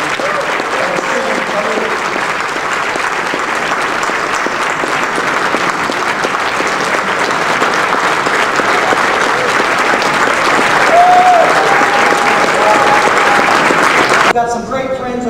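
Audience applause fills a Harris County Republican Party gathering, a steady broad roar of many hands clapping throughout, swelling slightly near the end before cutting off.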